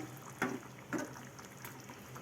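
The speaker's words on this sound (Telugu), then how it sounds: "కొద్దిసేపు మూత పెట్టుకొని అయితే మరీ ఉడికించుకున్నాము చూసారు కదండి ఇలా ఉడుకుతూ ఉంది" Chicken keema simmers in a covered pot, giving a quiet bed of soft bubbling with a few distinct pops at uneven intervals and no talk over it.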